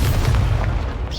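An Incendio fire spell cast in the video game Hogwarts Legacy makes a short, loud, low whooshing boom that rumbles, then fades slightly, with no voices.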